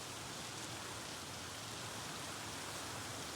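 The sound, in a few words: heavy rain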